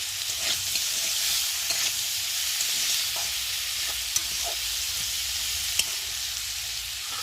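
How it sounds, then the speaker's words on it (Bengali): Vegetables with ginger paste and chopped tomato stir-fried for a vegetable dal, a continuous close sizzle with intermittent spoon scrapes and soft clicks against the pan, no voices. "সবজিটা মশলাটা ভালোভাবে একটু কষিয়ে নেব"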